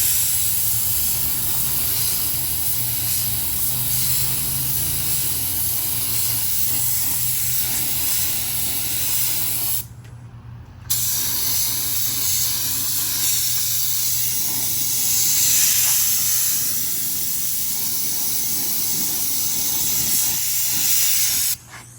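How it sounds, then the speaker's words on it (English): A paint spray gun hisses continuously while coating a frame, a steady airy spray that cuts out for about a second midway and then resumes. "I'm gonna keep on spraying"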